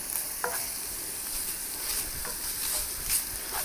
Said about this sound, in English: Let those jalapenos saute just a little bit